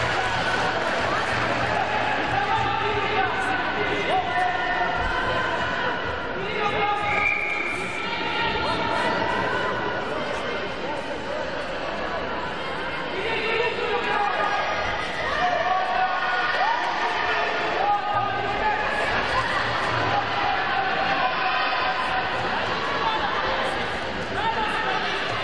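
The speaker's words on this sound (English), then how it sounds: "we can hear the team from Kazakhstan cheering for their teammate" The Kazakhstan team cheers and calls out for their teammate at a youth and junior sambo world championship final, steady indoor crowd chatter and shouts with scattered laughter running throughout.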